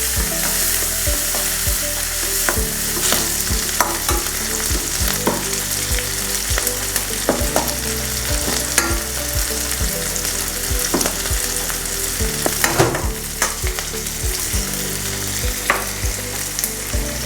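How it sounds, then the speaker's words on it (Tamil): Shallots and green chillies fry in a pan for a crab coconut milk curry, making a loud, continuous sizzle and crackle close up, with repeated stirring scrapes and knocks against the pan throughout. "சின்ன வெங்காயம் ஒரு 20 சின்ன வெங்காயம் போடுறேன்."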